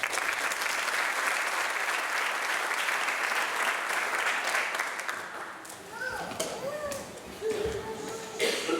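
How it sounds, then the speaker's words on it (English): Audience applause fills a school athletic awards night, sustained clapping for several seconds before fading into scattered claps and a few voices. "Please join me in giving these individuals a round of applause."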